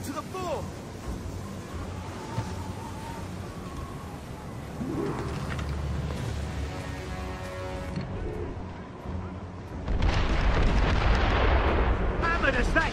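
Mortar artillery fire in the Assassin's Creed Rogue video game: deep booming blasts rumble through a noisy battle din, with a heavy, loud burst arriving near the end, while voices can be heard in the mix.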